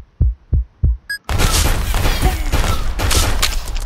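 Rapid gunfire in a shooting video game: a few heavy, evenly spaced thumping shots followed by a dense, continuous loud burst of firing and booms, up close.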